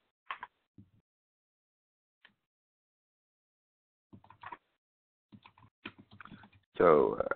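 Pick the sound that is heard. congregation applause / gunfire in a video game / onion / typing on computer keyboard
typing on computer keyboard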